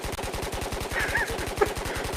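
Rapid automatic gunfire in the VR shooter Ghosts of Tabor, a fast regular burst of shots running continuously at close range with no talk over it.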